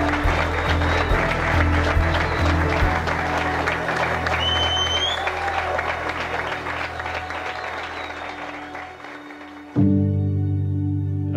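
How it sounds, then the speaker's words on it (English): Wedding guests at Newton Hall burst into sustained clapping and cheering as the groom kisses the bride, a loud, dense ovation with a few whoops that eases slightly before a sudden shift near the end. "for the groom to kiss the bride and the guests to cheer and applaud"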